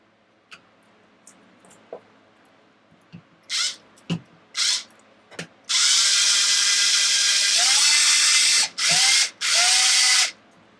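Electric screwdriver driving screws into a servo mount on an Arrma Vendetta RC car with a Savox servo: several short whirring bursts, then longer sustained runs with pitch drops as each screw seats, close and fairly loud.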